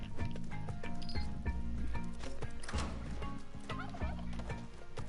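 Turkey gobbling in the video game Spelunky 2, a run of rapid, rattling gobbles over game music with a clip-clop rhythm, moderately loud and continuous throughout.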